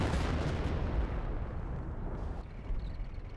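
Artillery shells exploding in the Company of Heroes video game, a dense, loud rumbling barrage of blasts that gradually eases off, then a final thump near the end.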